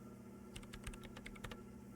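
Soft typing on a computer keyboard in Disco Elysium, a quick burst of about a dozen light key clicks over a quiet hum, fading back to the hum.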